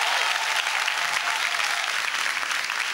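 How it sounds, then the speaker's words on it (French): An audience applauds loudly and steadily at a French stage show, dense clapping filling the whole moment without pause. "Merci d'applaudir Nastou"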